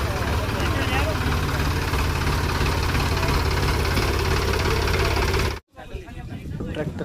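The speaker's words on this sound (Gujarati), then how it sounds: "ટ્રેક્ટર તૈયાર થઈ ગયું છે ગાંધીનગર જવા માટે." A farm tractor in a Gujarati village, readied for a trip to Gandhinagar, runs steadily at idle with a loud, close, continuous rumble. The engine cuts out abruptly near the end, then a softer noise rises again.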